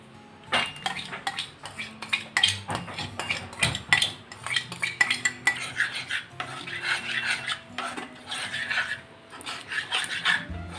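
A spoon stirs yogurt into a thick, reduced mango milk mixture in a metal pot, giving repeated scraping and clinking strokes in irregular bursts, close and moderately quiet.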